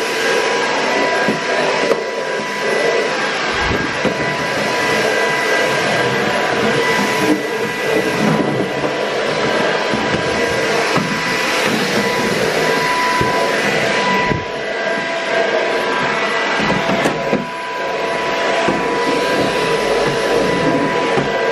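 An Ultenic FS1 cordless vacuum cleaner runs loudly and steadily at close range, a continuous broadband whir with small shifts in pitch and brief dips as it is handled.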